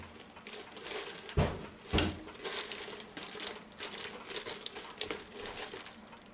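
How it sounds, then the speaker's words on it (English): Plastic bags rummaged through on a clock-building workbench, giving close, irregular crinkling and rustling with a couple of sharper crackling bursts early on, no voices. "Got all this stuff in plastic bags."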